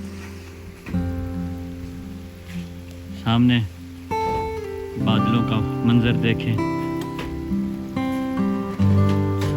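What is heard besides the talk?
rain falling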